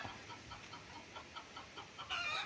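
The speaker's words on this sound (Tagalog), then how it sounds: "At sa ngayon may mga alagang manok, mga kaprops." Soft, repeated clucking of chickens at a distance on a farm in Nagcarlan, Laguna, Philippines, steady and low in level, with a brief rustling burst near the end.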